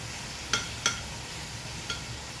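Tomatoes fry in a pan with a constant close, hissing sizzle, broken by a few light taps of stirring, with no voices.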